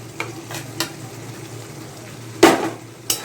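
A spatula scraping through potatoes, capsicum and onion in a hot pan, low steady frying sizzle under scattered soft stirring scrapes and two louder metallic knocks, close by, with no speech.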